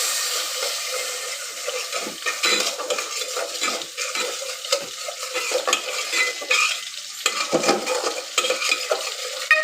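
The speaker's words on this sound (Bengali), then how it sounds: "মশলাটাকে এখন একটু কষিয়ে নিব।" Bengali spice paste (masala) with panch phoron powder frying in a pan for hilsa with aubergine and potato: loud, close sizzling with continual scraping and stirring strokes of a spatula against the pan.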